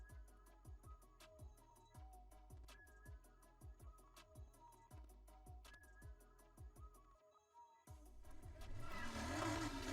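Engine of a Porsche 911 RSR RWB in the racing game Need for Speed Heat, revving in repeated rising pulses as it runs through gears, then a brief cutout followed by a louder, rougher burst of engine and tire noise.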